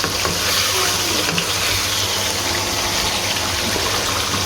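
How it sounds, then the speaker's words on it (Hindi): Chicken jalfrezi with spices frying in a pan, a steady dense sizzle running continuously throughout, with faint stirring scrapes mixed in. "अब हम इसकी इधर 3 से 4 मिनट के लिए भुनाई करेंगे अच्छे तरीके से"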